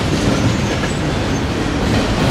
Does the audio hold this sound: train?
yes